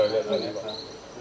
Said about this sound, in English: What you heard is a frog sound, the rocket frog.